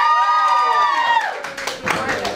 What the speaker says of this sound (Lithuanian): Aplodismentai jiems.